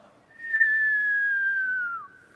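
A voice imitates a bomb's falling whistle: one long, steady high tone gliding slowly downward for about two seconds, then cutting off.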